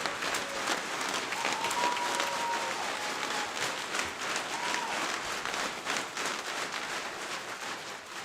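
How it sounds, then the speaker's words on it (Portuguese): Steady applause fills a formal civic session on diversity and democracy in a municipal chamber, a crowd clapping continuously at moderate volume from start to finish with faint voices mixed in. "uma salva de palmas"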